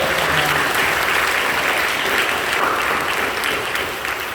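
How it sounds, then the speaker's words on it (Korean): Sustained applause from a church congregation at a Sunday worship service, dense and steady throughout, fading slightly near the end with no voices above it. "박수를 함께 해주시죠"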